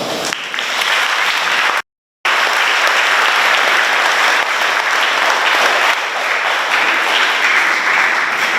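An audience gives a round of applause welcoming a speaker at an Education Week 2022 event, loud sustained clapping that runs steadily, broken by one brief dropout of silence near two seconds.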